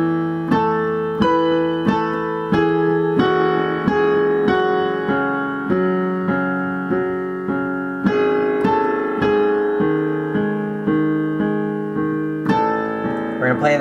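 Solo piano plays the song slowly, with repeated struck chords and a steady rhythm of decaying notes, close and clear with no talking.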